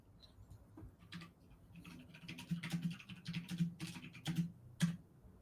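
Quiet, irregular keystrokes on a computer keyboard during an online workshop, a steady patter of small clicks that grows denser midway, with no talk over it.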